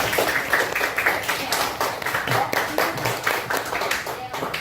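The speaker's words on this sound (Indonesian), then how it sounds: "Tepuk tangan dong buat Aurel." Children in a classroom clap together, a dense, steady patter of many small hands that keeps going for several seconds at close range, with a few young voices mixed in.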